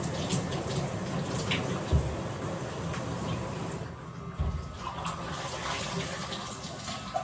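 Water splashing and running over a running electric lawn mower, a steady close wash of spray with a few soft knocks, no talk.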